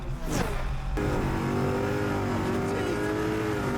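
Car engine accelerating hard on a test drive, a loud rising rev sweeping up over the first second, then a sustained high engine drone that continues through the rest of the clip.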